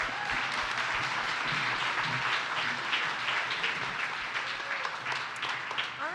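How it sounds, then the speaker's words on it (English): A crowd at a community crowdfunding event applauds a presenter, a dense, sustained clapping that stays level throughout, full and close enough to fill the room, with no voices on top. "Round of applause for Ashley"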